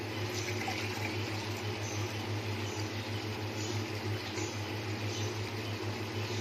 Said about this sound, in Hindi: 2 गिलास, बीच में आधा सा गिलास है उसको भी मैं फिल करके 5 गिलास पानी के जो है वो और शामिल करती हूँ